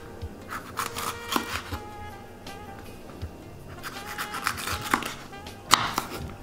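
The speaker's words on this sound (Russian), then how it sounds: "Болгарский перец. Нарезаем колечками." Knife slicing a bell pepper into rings on a cutting board, a run of crisp close-up cuts and taps in uneven bursts, moderately loud.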